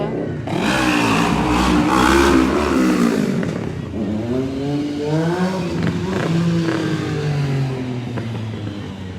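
Motorcycles revving their engines on North Dubuque Street in Iowa City during a street protest march, loud and close with rising and falling engine pitch over about nine seconds, some clatter mixed in.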